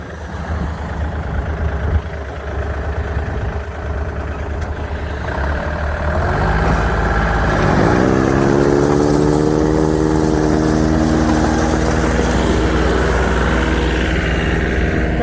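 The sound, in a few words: tractor-mounted snow blower auger clearing snow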